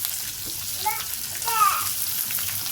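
Chopped onion with curry leaves and green chili fries in a pan with a steady close hiss and sizzle, a few faint voiced sounds breaking through briefly.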